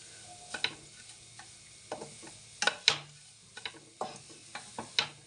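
A ladle stirs semolina roasting in ghee in a pan over low flame, making soft intermittent scraping strokes and small clicks against the metal, close and quiet, with a faint sizzle underneath.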